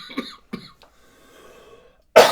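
A man recovering from illness coughs two or three times in short bursts during a casual livestream chat, followed by a louder rough burst at the end.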